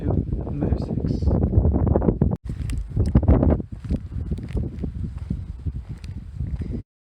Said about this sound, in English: Hard to hear me because the wind's so crazy